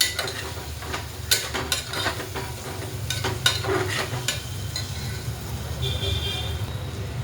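Chopped country tomatoes sizzle in a hot pan, with a steady frying hiss, several sharp clatters of stirring, and traffic noise and a faint horn outside.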